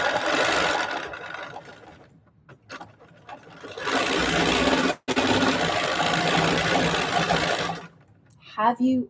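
A sewing machine doing free-motion stitching across a quilt block runs in loud, sustained bursts with short pauses between them, while someone talks over and between the runs.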